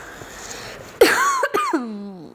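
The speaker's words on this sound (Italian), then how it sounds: "Sempre tosse, ragazzi, solo questa tosse." A single sharp cough bursts out close by, followed by a few raspy voiced sounds trailing off.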